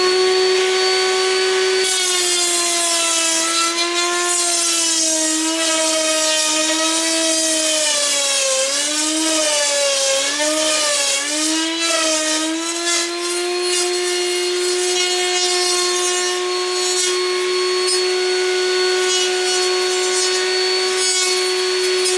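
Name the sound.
router cutting a tenon in wood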